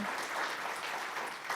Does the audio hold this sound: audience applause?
yes